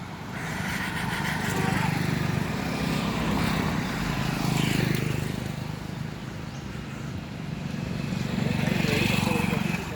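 A car passes on a road in Varanasi during dense winter fog, its engine drone broad and steady, swelling and easing across the whole stretch over constant traffic noise.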